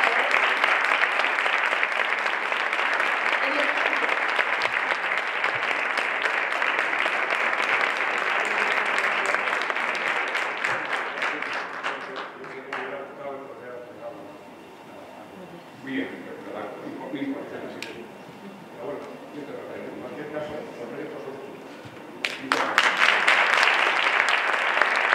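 An audience at a foundation's board meeting gives a sustained loud round of applause during an award presentation, which fades into a quieter stretch of talking and then surges into clapping again near the end.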